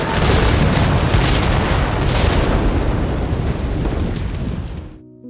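A car explodes in a loud, roaring blast that rumbles with crackling debris, sustained for several seconds before cutting off abruptly.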